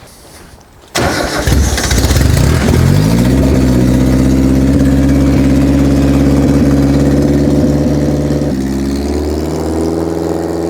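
A V8 engine swapped into a rear-wheel-drive Honda Prelude cranks, fires loudly and settles into a steady, rumbling idle that holds close and strong, then shifts slightly lower as the car begins to move.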